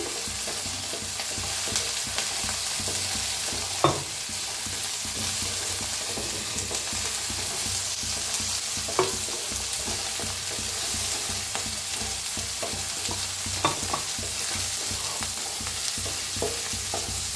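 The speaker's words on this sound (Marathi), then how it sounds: "तर ह्याला भी मिक्स करून भाजून घेऊया, टमाटोला भी।" Onion, green chilies and tomato sizzle and fry in a pan for a vegetable dish, with a steady hiss of frying and occasional sharp scrapes and clinks of a spoon stirring, close and continuous with no talk.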